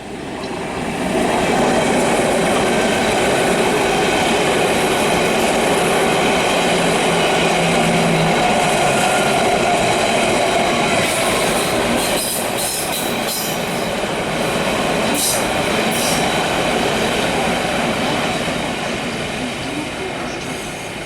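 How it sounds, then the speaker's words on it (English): Deutsche Bahn Intercity train carriages in Germany rumble steadily along the track, with continuous rolling noise, faint wheel squeal and brief clicking, close and loud throughout without speech. "they look like DB's version of an old British Rail Mark 1 carriage"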